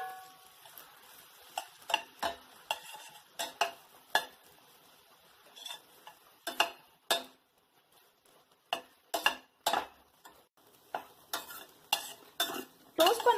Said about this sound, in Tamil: அதே நெய்ல வந்து இப்ப கட் பண்ண பிரெட்லாம் வந்து டோஸ்ட் பண்ணி எடுத்துக்கலாம்.